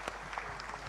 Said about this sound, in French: Un applaudissement, s'il vous plaît.